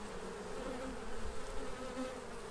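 Honey bees in a nucleus hive hum in a continuous, faint, close buzz that holds steady with slight swells, with no voices.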